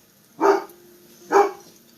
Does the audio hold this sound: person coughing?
no